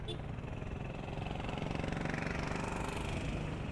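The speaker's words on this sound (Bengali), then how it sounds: "কত 6000 RPM এ চলতেছে 3 নম্বর গিয়ার" A vehicle engine revving hard at about 6000 RPM in third gear while climbing a steep hill on the road to Rangamati, giving a loud, steady, dense drone throughout with no break.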